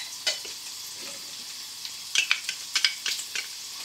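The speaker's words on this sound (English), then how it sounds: "And I'm going to fry those for 2 minutes." Courgette, carrots and garlic frying in a pan, a quiet sizzle with sharper crackles and spits clustering toward the end, close by and with no talking.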